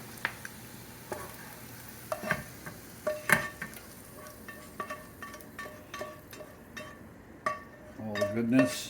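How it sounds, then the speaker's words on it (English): Chopped onions going into a pot of broth for French onion soup, with soft sizzling and a run of light clinks and taps from a spoon against the pot, fairly close, ending in a brief scraping stir. "What we're going to do now is put all that into the broth."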